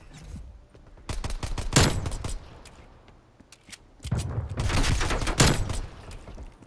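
Gunfire rings out in a Prop Hunt round of an online game, coming as two clusters of rapid, punchy shots separated by a quieter gap.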